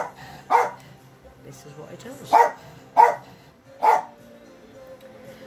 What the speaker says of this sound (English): I don't know why he's barking at her.